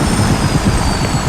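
A military helicopter in Call of Duty Modern Warfare makes a steady, dense rotor-and-engine rumble with a faint pulsing beat and a thin high whine, sustained and loud with no one speaking.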